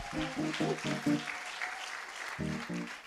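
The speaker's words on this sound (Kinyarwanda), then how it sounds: "Let's clap for the Lord." A church congregation claps along at a celebration service, the rhythmic clapping ringing out over sustained singing or keyboard tones, pausing briefly before resuming.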